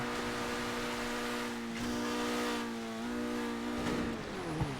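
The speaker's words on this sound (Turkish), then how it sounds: "Klasik bir araba sesi yapmışlar." A car engine in GTA 5 revs and accelerates in a smooth, synthetic-sounding tone, pitch rising and shifting as it speeds up, with no voices.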